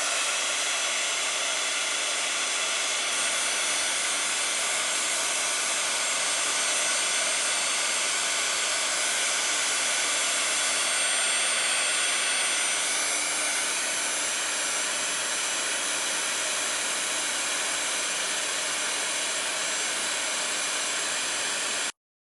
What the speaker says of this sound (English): Now I am gonna use my heat tool because this ink is still really wet.